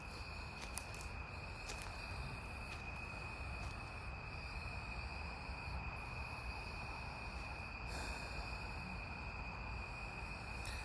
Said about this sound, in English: I can hear the crickets.